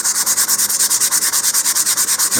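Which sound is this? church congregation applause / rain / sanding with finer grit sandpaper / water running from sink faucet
sanding with finer grit sandpaper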